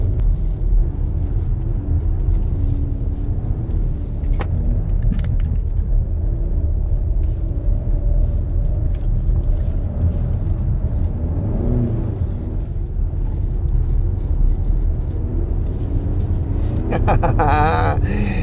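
A Skoda Kodiaq SportLine 4x4 SUV drives a handling course on ice, its engine and tyre rumble heard as a steady, loud interior drone that rises and falls through tight corners, with a brief burst of revving near the end.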